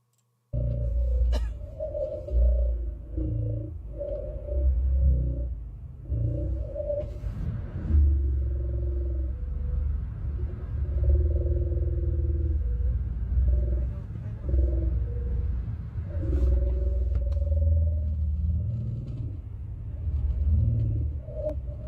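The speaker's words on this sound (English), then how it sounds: "This is the sound that's interfering with the radio" Interference noise picked up on a car radio from New Jersey: a steady, loud low rumble with droning, wavering tonal bands and intermittent sharp clicks, continuous for the whole stretch with no voices.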